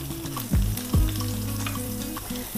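About two teaspoons of butter go into a hot frying pan with a little oil and hiss and sizzle steadily, with a couple of louder bursts near the start and a low hum underneath.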